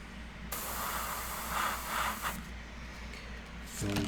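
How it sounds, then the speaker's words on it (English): An Iwata HP-SBS airbrush spraying FW ink onto a portrait, a continuous soft hiss that swells and eases in short passes, fairly close and quiet, ending with a faint mechanical rattle. "crawl the airbrush around so we hit the areas we need to"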